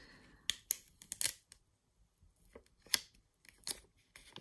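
Scissors snip through a diamond painting canvas in a few short, crisp cuts, close and fairly quiet, with pauses between bursts and no talking.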